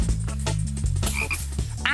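A loud, close frog croak from the Fingertips Bullfrog toy game repeats in a quick rhythmic series of deep pulses, with no talking.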